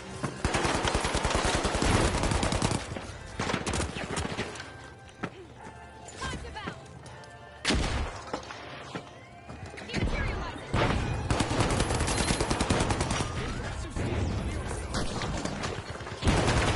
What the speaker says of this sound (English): Someone's just shooting a grenade launcher in there